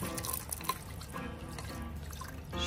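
Lemon soda water is poured into a mix of crushed makeup: a continuous liquid trickle and splash with small drips, close and fairly quiet, with no speech.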